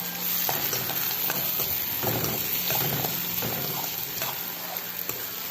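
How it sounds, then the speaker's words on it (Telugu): Moong dal fries in a pan, giving a steady, close sizzle with occasional scraping taps of stirring across the whole stretch and no talk. "ఇంకా పెసరపప్పు కూడా వేసుకొని ఫ్రై చేసుకున్నాను"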